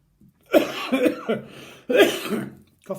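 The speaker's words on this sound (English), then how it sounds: "Coughing" Two close, harsh bursts of coughing, each a quick run of several hacking coughs, with a short pause between them.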